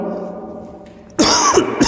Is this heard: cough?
yes